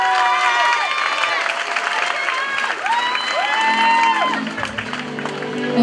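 An audience cheers for a singer with loud, continuous crowd noise, shouts rising and falling over the whole stretch and a voice calling out among them.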